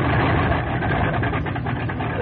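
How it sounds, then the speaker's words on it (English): The radial engine of a 1944 Grumman TBF Avenger aircraft runs in a steady idle after starting, a dense, loud mechanical drone with a rough low throb throughout. "the starter is engaged until the engine runs smoothly."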